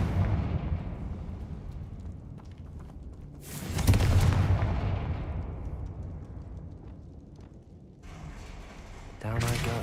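Fiery Confringo spell blasts in Hogwarts Legacy, a loud booming burst with a long rumbling decay near the middle, followed by quieter game effects and another sharp burst at the end.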